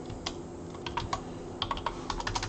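A username is typed on a computer keyboard in quick, close, crisp clicks: a few scattered keystrokes at first, then a faster burst of taps toward the end.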